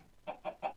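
A chicken in the Minecraft video game clucks three times in quick, evenly spaced bursts, fairly quiet and close, with no talk.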